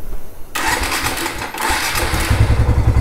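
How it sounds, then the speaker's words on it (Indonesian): Motorcycle cranked with its electric starter, quiet at first, then a sudden starter whir that catches into a running engine settling into a throbbing, pulsing idle, close and loud. "apabila saya coba untuk electric starter"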